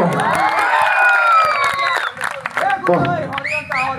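A stage-show audience cheers and shouts, with children's voices, whistles and scattered clapping rising over a loud voice on stage.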